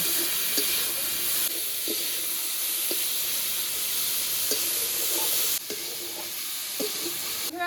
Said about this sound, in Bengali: এবার বরবটি সিম আর আলুটা ভাজব